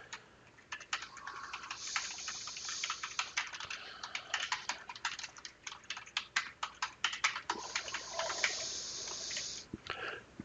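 Rapid typing on a computer keyboard while composing a Microsoft Teams channel post, a steady run of close, crisp key clicks with short pauses and no talking.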